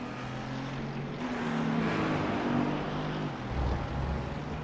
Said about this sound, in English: we got race car sounds